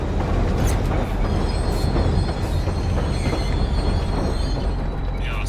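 A train ride in a video game: continuous loud rumble of rolling wheels with occasional clacks and metallic squeals, steady and close, with no voices.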